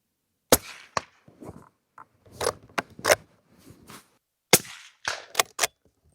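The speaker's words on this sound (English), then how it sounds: "Right, I'm shooting, guys." Steel Action straight pull hunting rifle fired outdoors in the UK at targets 100 to 140 metres away: several sharp, loud cracks spaced irregularly, with softer bolt clacks and handling noises in the gaps between shots.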